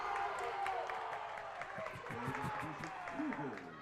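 A raucous crowd at an indoor soccer championship match roars and cheers continuously in a large echoing gym, with a commentator talking over the steady crowd noise.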